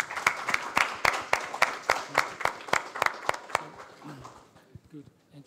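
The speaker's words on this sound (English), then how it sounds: "I would say like a really final big applause for everyone in this contest" Audience applause closes a coding contest awards event, a burst of sharp, evenly spaced claps from a small crowd that thins out and fades over the last second as murmured voices take over.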